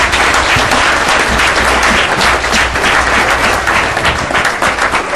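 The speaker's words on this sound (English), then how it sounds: "I'd like to give you guys one more round of applause." A committee meeting audience gives a sustained round of applause, dense, steady clapping filling the room for several seconds without letting up.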